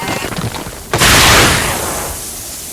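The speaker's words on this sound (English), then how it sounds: "Jets of white-hot steam bring the hunt to a sudden end." Jets of white-hot volcanic steam burst out suddenly with a loud, broad hissing roar that holds strong and slowly eases, following a quieter rumbling lead-in.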